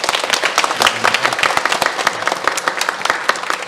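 A church congregation at a Sunday service bursts into steady applause, many hands clapping together at close range, loud and sustained throughout.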